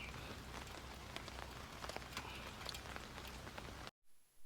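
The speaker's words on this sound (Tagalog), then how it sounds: "Pakinggan nyo yung ano, yung patak ng ulan." Steady rain patters and drips at a moto campsite, a dense, even hiss of drops hitting surfaces throughout before cutting off abruptly near the end.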